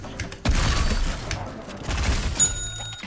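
Pump shotgun blasts in the Fortnite video game: loud, close booming shots land at irregular intervals across a few seconds, mixed with clinking mechanical game sounds and players talking.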